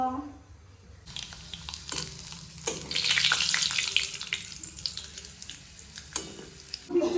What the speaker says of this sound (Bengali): তো পাপড় ভাজি